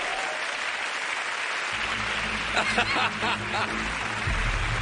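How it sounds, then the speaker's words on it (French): Audience applause at a French prank show about firecrackers, a steady wash of clapping that swells partway through with a few sharper, louder claps, with faint crowd murmur beneath. "peut applaudir Camille"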